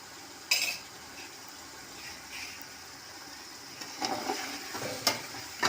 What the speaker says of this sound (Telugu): తొందరగా మాడిపోద్ది ఆయిల్లో పసుపు, అందుకని కలిపెట్టుకోవాలి.